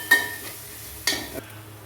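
Garlic and ginger stirred and sautéed in a pan for mud crab curry, two crisp scraping strokes of a spoon over a faint low sizzle, with a quieter scrape between, no talking.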